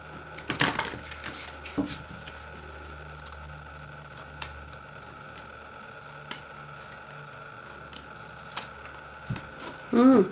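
Tarot cards get shuffled by hand in a quiet room: a short, crisp riffling burst near the start, then faint scattered ticks over low room tone, with another soft rustle right at the end.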